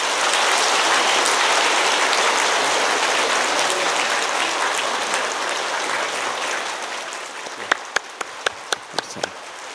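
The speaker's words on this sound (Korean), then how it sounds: "우리 뜨거운 박수로 축하하도록 하겠습니다." A church congregation at a Sunday worship service breaks into loud, dense applause that holds steady, then thins out into a handful of separate, distinct claps near the end.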